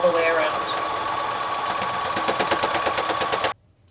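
A sewing machine runs continuously, stitching around a reversible fabric bowl cozy at a steady fast rhythm, close and fairly loud, then stops abruptly near the end.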